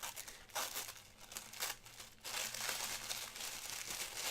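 Pencils from an Artsnacks art supply box being unwrapped, with faint, close plastic crinkling and tearing in irregular bursts that grow busier toward the end, with no talking.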